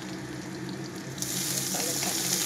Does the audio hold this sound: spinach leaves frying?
yes